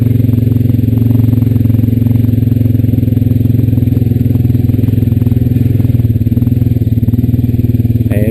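Honda Rancher 420AT ATV engine running steadily while riding, a loud, close, continuous low thrum with rhythmic mechanical clatter throughout and no speech.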